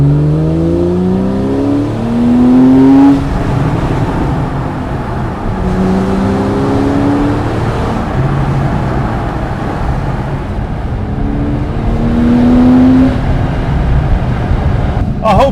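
A Porsche 911 (991) Carrera S in Sport mode with the sports exhaust open revs and roars continuously, its exhaust note rising and falling through repeated throttle blips, loud and close throughout.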